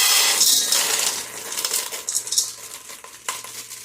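Dry beans pour into a container with a bright, dense hiss of rattling grains, loud at first and then thinning into scattered clicks and small clatters.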